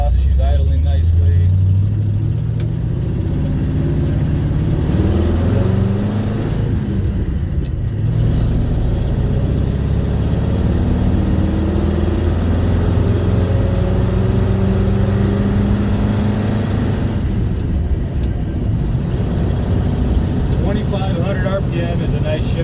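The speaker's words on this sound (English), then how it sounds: "She's up to temp, choke is off, she's idling nicely." A warmed-up 1971 Ford F250 Highboy pickup engine idles steadily with the choke off, a continuous low rumble filling the whole stretch with some faint shifts in tone, while people talk over it now and then.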